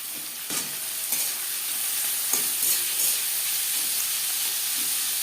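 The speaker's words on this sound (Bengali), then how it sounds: "পেঁয়াজ লালচে করে ভেজে নেব।" Sliced onions and slit green chilies fry in oil in a pan with a steady, bright sizzle, and a few louder crackles and stirring bursts rise briefly above the hiss.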